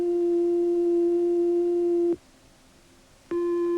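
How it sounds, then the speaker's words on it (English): An electronic oscillator produces a steady pure sine tone for about two seconds, falls silent briefly, then sounds again at the same pitch, clean and alone. "These oscillators produce sound electronically. Each oscillator produces a different kind of sound with a different wave form. This is a sine wave."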